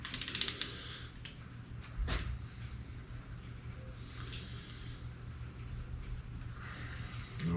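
A strap wrench works on the clutch of a Yamaha TW200 engine during an engine swap, giving faint creaks, light clicks and scraping mechanical sounds close by, with one sharper knock partway through over a steady background hum.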